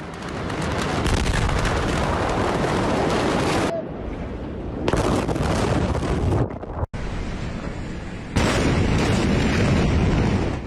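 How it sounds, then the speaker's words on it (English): A powerful explosion heard as sustained, loud, wind-like roaring rumble with abrupt cuts and restarts, a sharp thump-like break near the middle, all distorted and broad like a blast recorded on phones from a distance. "An explosion so powerful, shockwaves were reportedly felt clear across the Mediterranean in Cyprus."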